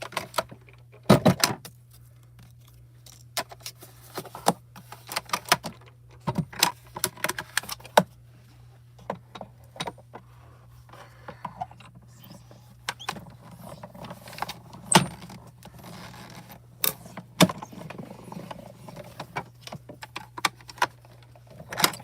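Paper sits in a die with glimmer-edge butterfly shapes as it runs through a die-cutting machine, producing a long stretch of close, irregular mechanical clicks and clacks over a low steady hum, with no one talking.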